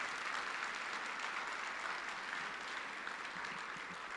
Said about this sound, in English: can we give them a warm round of hearty welcome applause